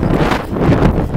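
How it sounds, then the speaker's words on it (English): Outdoor wind buffets the microphone in a constant, loud low-pitched rumble with uneven gusting, alone without any talking. "Oh my God, the wind, I'm so sorry."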